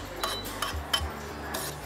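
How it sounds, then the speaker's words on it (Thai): A utensil stirs meatballs and shallots with butter in a frying pan, giving a few sharp metallic clinks and scrapes spaced irregularly over quiet background. "คนให้เข้าด้วยกันนะครับผม"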